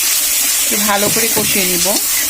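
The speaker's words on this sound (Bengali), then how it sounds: "দিয়ে দিচ্ছি জল।" Water hits a hot pan of turmeric powder and salt, setting off a loud, close, continuous sizzle while someone talks over it.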